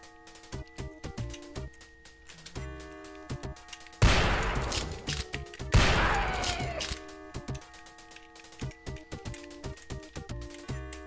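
In the shooter Spear of Destiny, a rifle fires a few loud, sharp bursts over a looping game music track, with two heavy blasts standing out in the middle.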